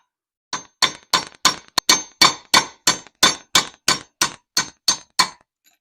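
An old bearing being tapped out with a head bolt during an LS2 engine build for a GTO, a run of about fourteen sharp metallic clanks at a steady rhythm, close and loud with ringing decay.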